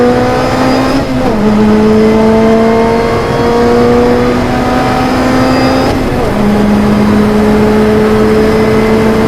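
A Lotus Exige S accelerates hard through the gears, its engine note climbing loudly and steadily, dropping at each of two shifts before rising again, close and without talk.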